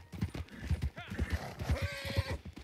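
Hooves clip-clop rhythmically from a horse at speed in Red Dead Redemption 2, with a brief whinny around the middle, all running under steady overlapping talk from players.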